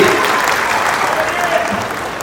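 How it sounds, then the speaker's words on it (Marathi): Loud, dense audience applause for comedian Bhau Kadam at a stage event, steady clapping filling the whole stretch with a crowd-wide roar. "जोरदार टाळ्या वाजवा त्या भाऊंसाठी"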